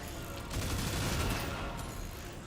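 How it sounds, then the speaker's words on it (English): Rapid shotgun fire in a shooter video game, a dense sustained burst of blasts and noise that swells and fades over a couple of seconds, with no talking. "I've got a shotgun."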